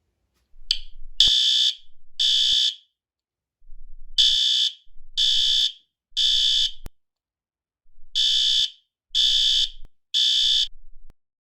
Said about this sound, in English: How dare you pull the fire alarm at school?